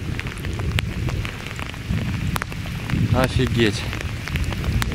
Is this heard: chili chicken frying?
no